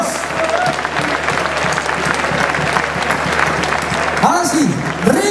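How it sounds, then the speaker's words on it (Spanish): Audience applause and cheering at a village festival for San Roquiño de Tállara, rising steadily and continuing for several seconds, with a live big band's horns briefly joining near the end and a voice over the crowd. "O aplauso grande para a Comisión de Festas"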